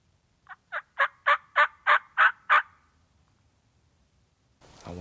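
A wild turkey gobbler gobbles once on Ohio public land, a rapid rattling burst of about eight pulses that rises and then fades, fairly close in an otherwise quiet wood, followed by rustling.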